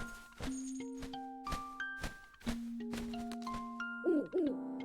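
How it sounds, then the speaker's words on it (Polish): Owl hooting in the video game Legend of Zelda: Link's Awakening, a series of clear hoots punctuating steady electronic game music and tones, with no talking. "Jest sowa. Słyszę sowę."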